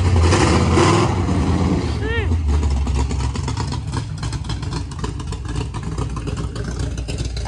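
A 383 stroker engine idling in a Dodge Charger, a loud rough lumpy rumble running steadily throughout, close by, with people talking over it.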